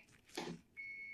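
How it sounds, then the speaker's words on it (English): A faint soft rustle, then a steady high-pitched electronic beep starts and holds, thin and piercing against a quiet background. "What is that damn beeping noise?"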